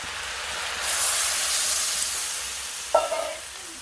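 Water is poured into a hot pan of Bengali curry made with fish head and Malabar spinach, setting off a sudden loud hissing sizzle that settles into a steady steam hiss, with a sharp clatter near the end.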